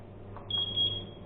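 A Ninebot One Z10 electric unicycle switching off emits a thin, high-pitched electronic beep, lasting about half a second over a faint low hum.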